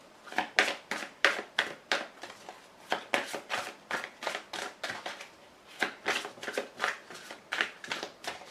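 A deck of tarot cards is cut and shuffled by hand, giving quick, close riffling bursts in an irregular rhythm, about a dozen crisp flutters separated by brief pauses.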